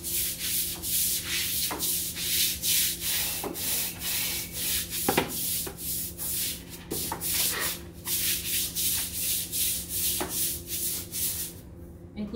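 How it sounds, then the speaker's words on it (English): A dog run floor being scrubbed with Dawn dish soap, a steady rhythmic brushing and rubbing that repeats in quick strokes, close and fairly loud, with no talking. "And then I'm gonna scrub the run."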